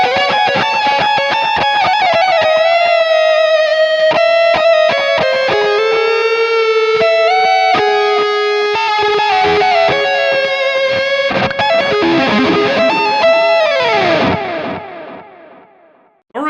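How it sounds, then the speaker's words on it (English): An electric guitar played through a NUX MG-300 with hall reverb rings out in sustained notes and chords, loud and close, with long echoing tails that fade toward the end. "Let's try the hall reverb."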